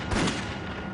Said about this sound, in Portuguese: Nossa, aquilo foi um tiro.